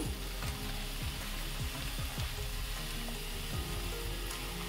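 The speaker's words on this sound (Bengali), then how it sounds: "আবার একটু নেড়ে চেড়ে নিচ্ছি।" Chicken soup ingredients with salt sizzling in a pan as they are stirred, a steady soft frying hiss with repeated low scraping strokes of the spoon, no voices.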